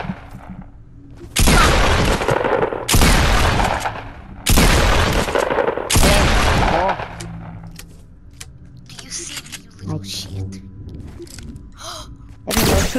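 Four loud Fortnite sniper shots ring out about every one and a half seconds, each a sharp blast with a lingering tail, followed by quieter game sounds and scattered smaller pops.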